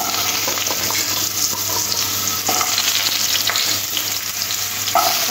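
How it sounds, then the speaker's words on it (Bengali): Potato pieces frying in very hot oil in a wok, a steady, loud sizzling hiss that runs throughout, with faint stirring clinks now and then. "তেলটা খুব গরম হয়ে আসলে দিয়ে দেবো এখানে আলুর টুকরোগুলো।"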